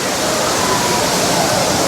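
Waterfall water pours steadily at Aintharuvi and Old Courtallam falls in Tamil Nadu, a loud, continuous broadband roar of falling water with no pauses.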